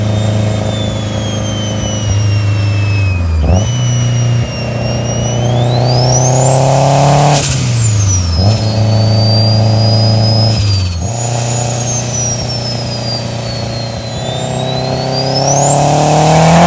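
A turbocharged Honda Civic Si EM1 engine with a noise problem revs up and down several times, its pitch climbing and dropping with a high whine riding along, loud and close with no talking.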